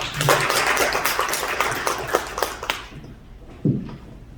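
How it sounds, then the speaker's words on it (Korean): Audience applause at a seminar welcoming a presenter to the podium, a dense burst of clapping for about three seconds that fades out, followed by a few isolated sounds near the end. "박수로 좀 격려해 주시기 바랍니다"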